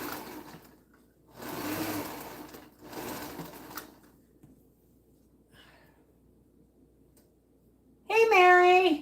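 Sewing machine running in short bursts on fabric, two longer runs early on, then a loud high-pitched whirring burst at the end, with quiet pauses between and faint voices in the background.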